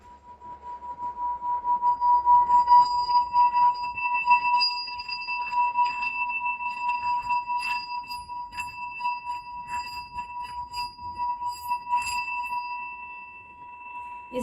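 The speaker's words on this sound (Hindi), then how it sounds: "तो ये मेरा सिंगिंग बोल है" Singing bowl rubbed around its rim and struck, a sustained pure ringing hum swelling and shimmering with repeated light strikes, close and continuous over quiet background.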